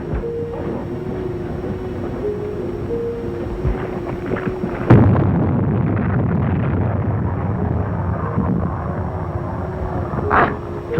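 A U-boat torpedo is fired and explodes: a low mechanical rumble and hum gives way to a sudden loud blast, followed by a long rolling roar that fades, with a brief sharp burst near the end.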